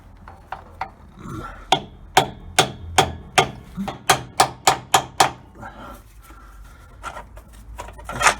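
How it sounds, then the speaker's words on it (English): Repeated sharp metallic strikes of a lump hammer on a bronze drift in a steady rhythm, about a dozen close blows, with a few lighter taps before and after, during repair of a 1956 Mercury Merc-o-Matic gearbox. "So I've got this brass drift, or bronze possibly, bronze drift, and a lump hammer"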